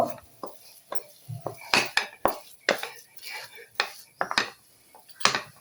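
Coconut sweet mixture for narkel naru being mixed with milk in a pan, heard as a run of irregular close metal scrapes and clinks of a spoon against the pan, short sharp bursts separated by brief pauses.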